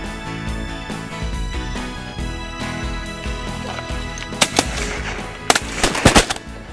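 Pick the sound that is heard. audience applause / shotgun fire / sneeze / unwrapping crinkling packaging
shotgun fire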